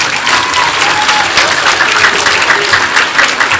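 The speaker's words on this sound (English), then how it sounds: "Give yourselves a round of applause." Students at a school men's outreach event applaud together, a dense, steady wash of clapping from a crowd that holds strong for several seconds.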